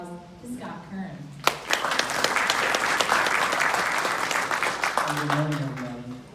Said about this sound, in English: please give a big round of applause to Scott Kern